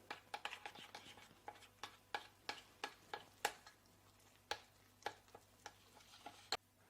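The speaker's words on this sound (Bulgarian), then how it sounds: "И тук, както винаги, разбърквам всичко много добре." A spoon stirs flour and other bread roll dough ingredients in a bowl, making a run of crisp, separate scraping taps. They come quickly at first and then space out, close and quiet over a faint steady hum.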